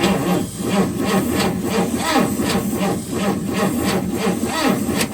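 A 1959 Chrysler Windsor engine cranks over on the starter with one spark plug removed, giving a steady, rhythmic churning pulse, close and continuous with no voices.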